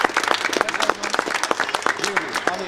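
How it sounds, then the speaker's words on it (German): Applause breaks out for a team at an award ceremony, with close, uneven clapping from a small crowd and people talking and calling out over it. "Applaus bitte für Light Jockey."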